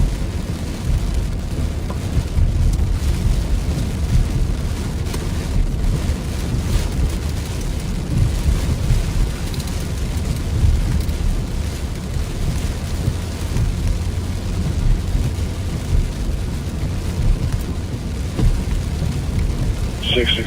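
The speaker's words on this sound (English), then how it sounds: "Yeah, this rain is coming down." Heavy rain pours steadily and densely throughout, a constant loud roar with no break.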